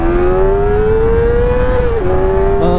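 A Kawasaki Ninja ZX-4R inline-four motorcycle screams close and loud as it accelerates, its steady high engine pitch climbing before a sharp drop at a gear shift, then pulling again.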